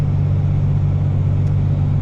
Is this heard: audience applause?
no